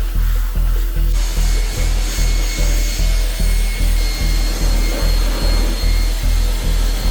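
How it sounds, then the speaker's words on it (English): A vacuum cleaner's steady mechanical drone with rhythmic pulsing strokes, pushed back and forth while cleaning a car interior, loud and close with no talking. "Now we'll vacuum up the mess and give our workspace a nice cleaning."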